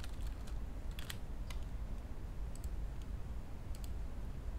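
Soft, quiet computer keyboard typing gives a few scattered clicks over a steady low background hum.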